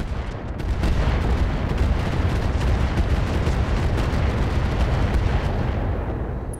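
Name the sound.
Apollo missiles firing in Roguetech video game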